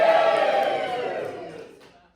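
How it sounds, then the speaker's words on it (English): A crowd at a Smeg fridge launch event cheers together in a loud burst that tails off over about two seconds. "Give me a cheer if you're here."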